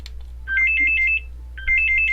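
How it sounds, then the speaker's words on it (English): A phone rings loudly nearby, two bursts of warbling electronic ringtone separated by a short pause, with a low background hum underneath. "phone is ringing."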